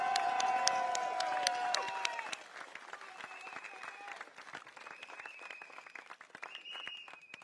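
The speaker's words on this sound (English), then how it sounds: "Can I have one round of applause for our NCMP" Applause and cheering from a crowd at a Progress Singapore Party outdoor rally at Catholic High School, loud and dense at first, then tapering into scattered claps and whoops under the crowd's murmur.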